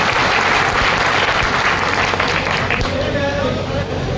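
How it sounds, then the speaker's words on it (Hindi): Loud, dense audience clapping at a municipal swearing-in ceremony for a town chairperson and council members in Lawar, holding strong throughout, with a faint murmur of crowd chatter beneath it. "जोरदार तालियों के साथ स्वागत करें"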